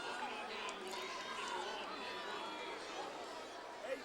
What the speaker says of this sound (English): The crowd continues to file out as the final half minute of this game